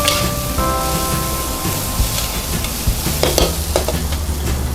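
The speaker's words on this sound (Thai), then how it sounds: "หอมใหญ่ มะเขือเทศใหญ่ลงพร้อมกันได้เลย ตอนนี้ให้เข้ากัน ดีให้เข้ากัน" Onion and tomato stir-fried together in a hot pan for fried rice, with a steady close sizzle, scraping stirs and a few sharp spatula clinks, while a low background hum runs throughout.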